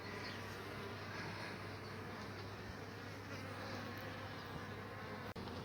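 Honey bees in a chimney hive being relocated make a dense, steady buzzing swarm drone, close and continuous throughout with a brief tap near the end.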